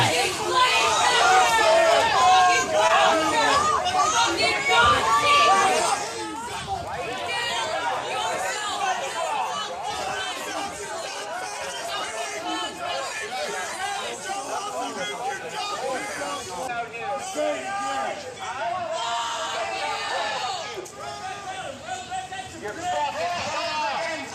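A rowdy crowd keeps up a loud, dense babble of overlapping voices and shouts throughout, loudest in the first few seconds before settling into a steady roar.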